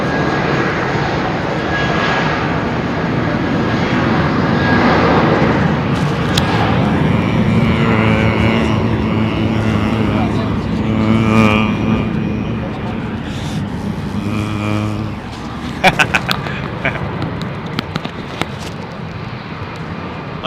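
A British Airways airliner carrying England's Lionesses departs London Heathrow, its engine roar loud and sustained before fading, with people talking over it and a few sharp clicks near the end.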